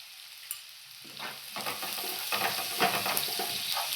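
Salted onions fry in a pan. A quiet start gives way to a growing, close sizzle broken by irregular stirring scrapes and spatters, with no talking.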